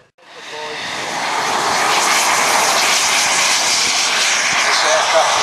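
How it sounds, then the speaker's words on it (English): A prototype aircraft with swept-back wings and a T-tail flies past at an airfield display as it turns, a loud, steady engine roar that rises fast and then holds for several seconds without break. "plane with the swept-back wings and the T-tail as it turns and comes into the sunshine"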